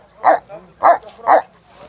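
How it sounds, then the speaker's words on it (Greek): Three loud, evenly spaced barks from a shepherd dog brought by livestock breeders to an outdoor farm gathering in Kozani, Greece, close and clear with a short pause between each. "Οι φίλοι μας οι κτηνοτρόφοι φέραν τα σκυλιά τους."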